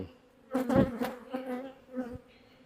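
Honey bees buzzing loudly and close at a hive just opened for the first inspection of the year, several droning wingbeats swelling and fading over a couple of seconds.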